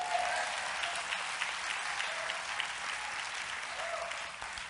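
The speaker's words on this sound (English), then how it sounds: "Clap your hands." Steady applause from an audience at a motivational sermon, dense and sustained throughout without speech.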